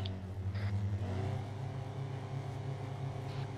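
A car driving past in a Martinique roleplay video game, a low engine drone with a rising whir as it goes by, moderately close and steady over a few seconds, no voices.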